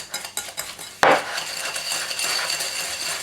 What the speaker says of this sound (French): on prend le beurre que l'on mélange avec le sucre